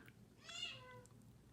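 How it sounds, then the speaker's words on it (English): A hairless cat meows once outside a closed door, a single rising and falling call of moderate loudness over a low background hum, with no talking. "hear my cat out there going crazy. She wants to come in so badly"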